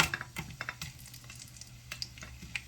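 Onion and garlic going into a pot with a little hot oil, giving a faint, steady sizzle with scattered light pops and soft stirring scrapes.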